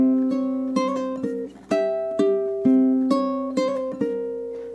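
Ukulele plucking the second bar of a spooky melody: a string of bright, single-note plucks, each ringing and decaying before the next, in a steady unhurried rhythm, close and clear with no talking.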